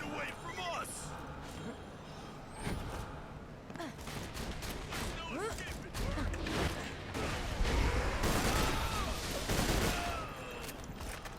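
Borderlands 2 gameplay with rapid bursts of gunfire and impacts crackling throughout, mixed with game effects while a person talks over the action.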